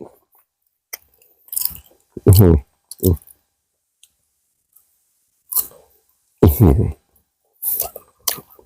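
Close-up chewing of sweet Phetchabun tamarind, with several short, crunchy, wet bites and chews separated by quiet gaps.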